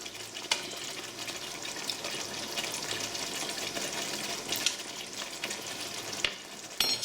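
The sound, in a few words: jeera potatoes simmering in a pan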